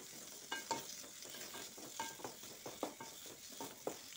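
Tomatoes and onions sizzling and sautéing in a pan for cactus curry, with soft scraping and stirring taps at an uneven rhythm, close and fairly quiet.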